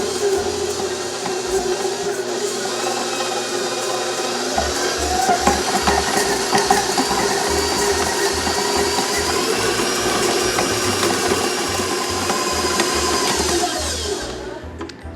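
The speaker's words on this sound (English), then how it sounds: "throw my butter and sugar into the mixer. We are going to beat it until it is nice and light and fluffy" A stand mixer beats a stick of butter with half a cup of white sugar, a steady loud motor whir with rhythmic paddle thumping that runs continuously and then winds down at the end, with no talking.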